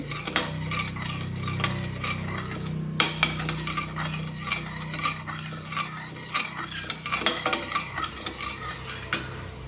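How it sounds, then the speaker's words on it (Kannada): Urad dal being stirred and roasted in a pan: rhythmic scraping and clinking of a spoon against the pan repeats steadily over a faint sizzle, close and clear. "ನೋಡಿ, ಉದ್ದಿನಬೇಳೆ ಹುರ್ಕೋತಾ ಇದ್ದೀನಿ"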